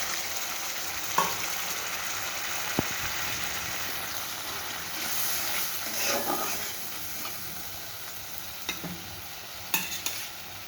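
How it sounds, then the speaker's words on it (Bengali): A little water goes into a hot pan of pomfret mustard curry, setting off a loud, continuous sizzle and hiss with a few sharp pops and clicks over ten seconds. "এবারে আমি একটু জল দিয়ে দেবো"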